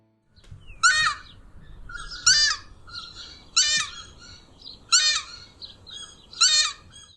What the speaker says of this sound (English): It was a takahe. It is a flightless bird and endemic to New Zealand.